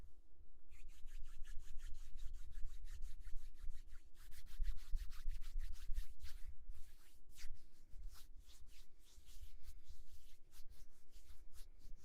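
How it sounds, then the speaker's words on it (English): Close, steady ASMR hand rubbing, palms sliding back and forth in a fast, even rhythm of dry swishing strokes that stays loud and continuous, with no voice. "I will attempt hand rubbing again."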